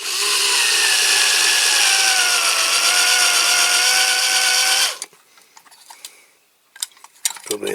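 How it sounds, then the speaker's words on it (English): A cordless drill runs steadily at full speed for about five seconds, loud and close, with a pitch that sags slightly as it goes, then stops, leaving faint clicks and handling noise. "I don't think there's enough juice left in my drill for this one"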